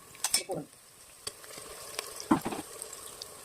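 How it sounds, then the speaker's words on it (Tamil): Onions and masala sauté in a pan with a soft sizzle, broken by a few quiet stirring scrapes and clinks of a spoon, close and faint. "மசாலாலாம் கொஞ்சம் போட்டு ஆனியன் போட்டு வதக்கிட்டு இருக்கேன்."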